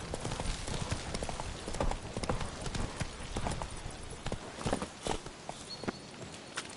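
Roach the horse gallops in The Witcher 3: Blood and Wine, a dense, rapid run of hoofbeats close up over a busy game soundscape.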